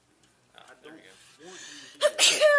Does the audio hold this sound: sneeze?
yes